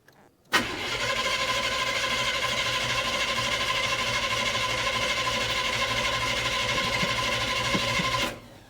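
A freshly built small-block Chevy 350 V8 fires up for its first start, catching abruptly and settling into a loud, steady running drone that holds for several seconds before cutting off.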